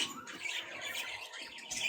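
Pet birds, including a blue and a green pair, squawk and chatter inside an indoor birdhouse at a Saguenay-Lac-Saint-Jean sugar shack, a steady dense flock noise at moderate level with no talking.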